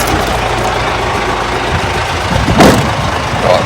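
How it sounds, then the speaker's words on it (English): A four-wheel drive FTS truck idles close by, a steady low engine rumble that holds throughout, with a brief louder rustle or bump near the end. "so that's the truck, 4-wheel drive FTS"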